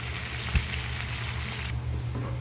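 Garlic and chili hit a hot pan beside shiitake mushrooms, giving a dense, steady sizzling crackle with a small pop early on, close and continuous without talk.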